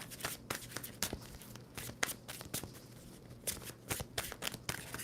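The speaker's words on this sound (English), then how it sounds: "Two more shuffles for Scorpio." Tarot cards being shuffled in rapid, repeated riffling bursts, close and clear, with soft papery slaps and no voices over them.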